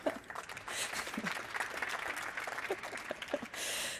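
A hackathon audience gives faint, scattered applause, a thin spread of clapping in a quiet room with a brief louder burst near the end.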